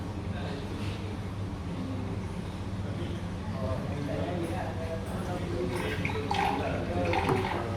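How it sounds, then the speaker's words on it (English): A shrouded flat blade impeller with no baffle churns liquid at 500 RPM in a lab mixing tank, giving a steady low motor hum and soft watery swishing that continue throughout, with faint clinks near the end. "this is the motion flow of the liquid at 500 RPM, and this experiment is done with the shrouded flat blade impeller without buffer"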